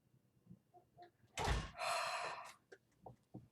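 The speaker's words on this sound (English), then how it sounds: "Close the door." A house door swings shut with a solid thud, followed by a brief rattling scrape, heard close in a quiet room with small household sounds around it.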